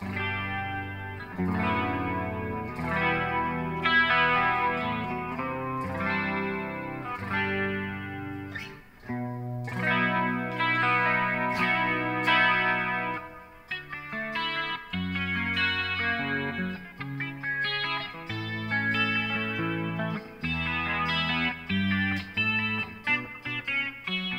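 Electric guitar patches played through a Valeton GP-200 floor guitar rig, with distorted, chorus-laden riffs and chords running steadily and loudly for the whole passage, broken by brief pauses, with no talking.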